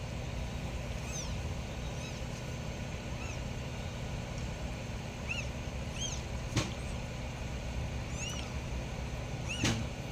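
A cat named Cupcake meows softly and repeatedly while giving birth to kittens, short high cries spaced across a steady low background hum, with a couple of sharp clicks.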